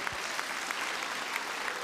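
Applause from a church congregation, a continuous wash of many hands clapping, fairly faint and distant, steady throughout.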